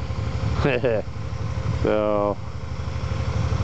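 A Can-Am Spyder RT three-wheel motorcycle idles steadily nearby, a low constant engine rumble running throughout while someone speaks briefly over it.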